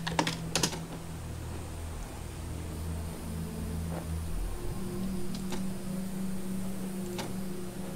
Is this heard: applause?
no